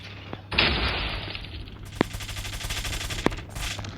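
Gunfire in a ranked Call of Duty match: rapid bursts of automatic fire and several sharp single shots ring out across a few seconds, loud and close, set against a steady game-audio background.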